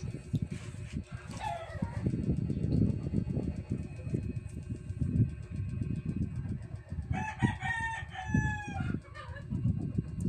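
A rooster crows in a loud, drawn-out call outdoors, with short clucks early on, over steady low rumbling background noise.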